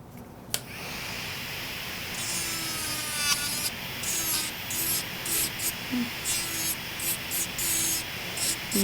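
A dental handpiece or bur trims a temporary upper molar crown in short repeated grinding passes, a raspy scraping rhythm close up with brief pauses between strokes.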